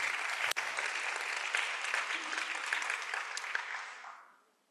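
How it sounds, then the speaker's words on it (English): An audience at a youth lab kickoff ceremony in Addis Ababa claps for a group of painters, a steady crisp wash of many hands that holds evenly, then fades out near the end. "So round of applause to them once again."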